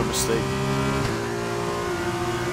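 An F2 race car in a racing game accelerates out of a corner, its engine whining with a steady rising pitch, loud and continuous, while a commentator talks over it.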